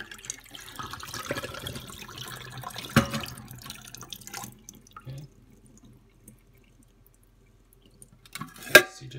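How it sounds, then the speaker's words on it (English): Water is poured out of an RTIC 36oz bottle, a few splashes and drips trailing off into near silence before a final sharp clunk. "I'm gonna dump out the water."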